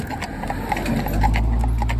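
Hooves clip-clop in an even walking rhythm on a hard surface, close by, over a low steady rumble.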